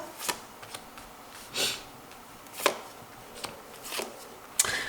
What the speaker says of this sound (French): je vais tirer mes cartes